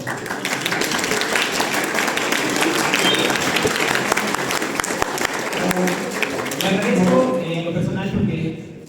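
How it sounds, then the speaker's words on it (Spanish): Audience at a philosophy café panel gives sustained applause, dense clapping from a room full of people that holds for several seconds before voices rise through it and the clapping tapers off. "Un aplauso, por favor."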